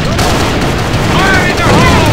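Bursts of automatic gunfire from an online first-person shooter, A.V.A. Alliance of Valiant Arms, fill the clip at close range, with rapid overlapping shots, booms and voice chatter mixed in.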